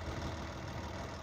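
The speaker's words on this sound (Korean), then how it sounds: "전반적인 엔진 소리와 라라라라라라 소리 되게 좋고 잘 나가죠" Kia Mohave The Master 3.0 diesel 4WD idling, a steady low rumble that stays fairly quiet and even throughout the short stretch, with no voices.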